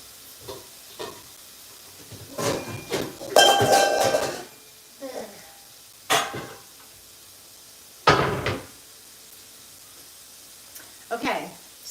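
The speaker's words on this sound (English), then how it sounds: "those rice noodles are going to cook in a second" Rice noodles cooking in a pan on a home stove, heard as scattered clinks of utensils against cookware and brief sizzling bursts, with quiet gaps between.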